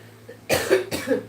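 Two sharp coughs in quick succession, close and fairly loud, with quiet background otherwise.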